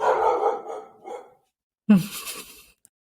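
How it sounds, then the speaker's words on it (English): A dog barks indoors, a few loud close barks heard alone after a stretch of breathy sounds, with a brief sharp tap at the end. "I don't know if you can hear my dog barking."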